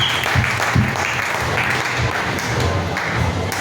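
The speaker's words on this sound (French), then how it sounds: "Acclamez pour la gloire de Dieu" A church congregation breaks into dense, sustained applause that stays loud and even from start to finish, with no voices on top of it.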